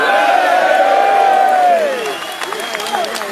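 A large crowd roars and cheers loudly and steadily, then the sound eases into a softer, scattered din with some clapping and calls, at an event addressed by Sir Winston Churchill.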